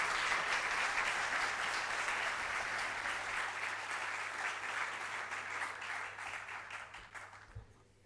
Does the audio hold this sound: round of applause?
yes